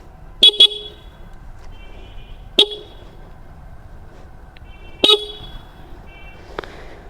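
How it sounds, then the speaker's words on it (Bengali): Dual horns fitted to a Suzuki Gixxer motorcycle give three short, sharp toots: a quick double beep, then two single blasts spaced a few seconds apart over a quiet background. "আগে একটা হর্ন ছিল, এখন হচ্ছে 2টা। একটু যদি দেখায় আপনাদের, আওয়াজটা শুনেন, 2টা হর্ন আছে।"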